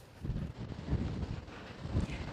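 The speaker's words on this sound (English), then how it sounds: "Good morning from a very windy Tenerife, Savannah." Gusty wind in Tenerife, Canary Islands, buffets the microphone in low rumbling bursts, rising and falling over a couple of seconds.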